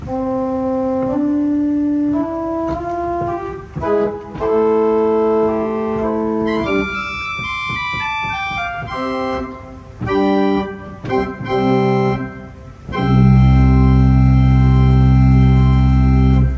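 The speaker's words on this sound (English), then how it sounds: "But the open diapason sounds like this." A concealed pipe organ on a chilly December day plays its open diapason 8-foot stop: a run of stepping notes and chords, ending in a deep, loud sustained chord. No one speaks.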